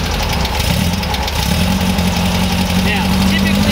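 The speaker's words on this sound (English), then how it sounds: "let's start this thing up" A German air-cooled engine with dual carburetors cranks and settles into a steady, loud idle that runs through the whole stretch, close by in a garage.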